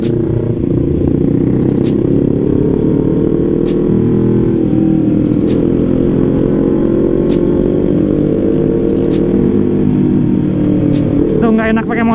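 A Honda CBR 250 RR motorcycle is ridden at night around Bogor, its engine holding a loud, steady droning note with occasional clatter for the whole stretch.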